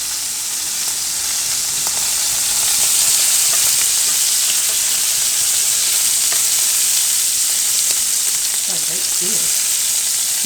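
Hot grease sizzling loudly and steadily in a pan as duck fries, a broad continuous hiss with no talking.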